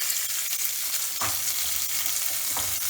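Coriander thokku with salt sautéing in a pan, giving a continuous frying sizzle with two distinct stirring scrapes, close and fairly loud, with no voices.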